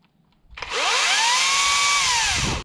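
A chainsaw fires up after its trigger is pressed and runs loud and steady for about two seconds, its whine rising and holding before cutting off, close by outdoors at an off-grid homestead.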